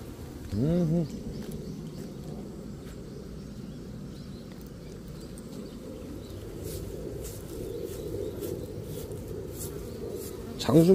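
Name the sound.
honeybees buzzing around a beehive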